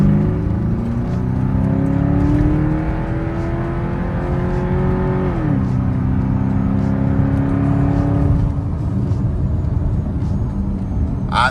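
A 955-generation Porsche Cayenne accelerates hard to pass another car, the engine note climbing steadily, dropping with a gear change, then climbing again, loud and continuous from inside the cabin.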